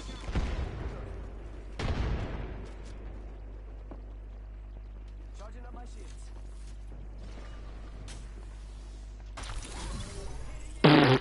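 A grenade blast and gunfire in an Apex Legends match ring out in bursts, with sharp impacts near the start and around two seconds and a loud burst at the end, under a steady game rumble with players talking.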